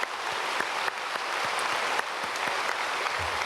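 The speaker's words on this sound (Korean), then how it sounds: "박수로 축복하겠습니다." Congregation at a Sunday church service applauding steadily, a dense, sustained wash of many hands clapping with no talk over it.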